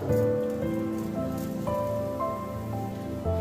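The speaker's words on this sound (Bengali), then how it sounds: "ফোড়নে দিয়ে দিব জিরা" Cumin seeds tempering in hot oil in a kadhai, a brief, close burst of dense crackling sizzle like heavy rain, steady and without voices.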